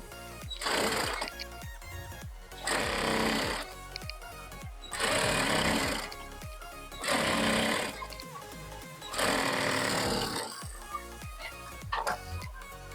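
A sewing machine stitches a fabric strip onto a lehenga made from a saree, running in five roughly even bursts of rapid, close whirring with short pauses and small handling clicks between them.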